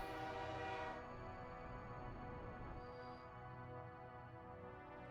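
Train in the Burning Resources video game, heard as a fairly loud horn-like tone at the start that fades into steady low rail rumble and rolling noise, with no talking.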